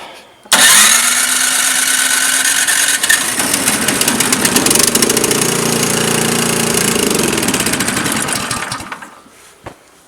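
A single-stage snowblower's small engine catches at once and roars loud and steady close by, running rough and throbbing for about eight seconds before cutting out and dying away.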